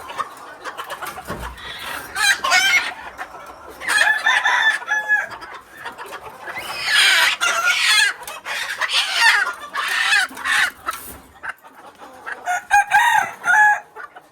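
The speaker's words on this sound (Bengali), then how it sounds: "বড় মুরগিটা এখানে দিলাম যাতে মুরগির সাইজটা বড়" Hens in a coop where broody hens are being set on eggs cluck in repeated close bursts with short pauses between, loud and alone without talk.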